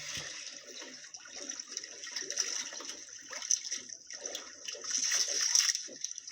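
River current flows and splashes with a fluctuating, rushing wash of water at moderate distance, swelling and easing in waves, with no clear talk.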